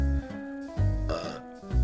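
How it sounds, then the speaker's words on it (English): A person burps several times in quick succession, loud, close and guttural, with short gaps between the croaky eructations and no talking. "Sorry for the burps."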